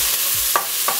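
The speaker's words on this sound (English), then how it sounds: "let's saute our onions first" Onions sautéing in a pan over medium-low heat, a close, loud steady sizzle with two short stirring scrapes.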